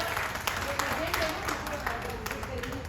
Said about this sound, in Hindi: एक बार हमारे सारे स्पॉन्सर्स के लिए जोरदार तालियां।